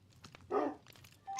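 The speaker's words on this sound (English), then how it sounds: "I'm hearing dogs, which I didn't even know were in here." Dogs in the Minecraft Vault Hunters modpack give a few short game barks, with one louder bark in the middle over a quiet background.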